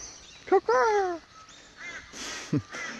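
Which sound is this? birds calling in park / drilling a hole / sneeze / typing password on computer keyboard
birds calling in park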